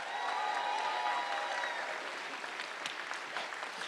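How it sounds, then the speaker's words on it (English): A live convention audience at Worldcon in Glasgow claps together in a fairly distant, even burst of applause that carries on for a few seconds without pause. "Clap your hands to the child."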